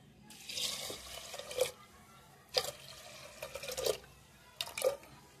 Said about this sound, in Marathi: बघा हे तांब्याने टाकले, थोडं कमी तांब्याभर पाणी